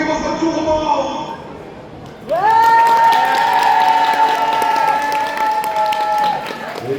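Audience applause breaks out at a convention roleplay contest after a Beauty and the Beast performance, following a speaking voice, with loud sustained clapping and a held musical tone beneath it.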